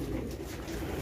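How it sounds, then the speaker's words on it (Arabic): Racing pigeons coo steadily inside a loft in Casablanca, a dense, continuous murmur of many birds close by with no voices over it. "هاد البلاصة الإخوان راه فيها غير الحمام"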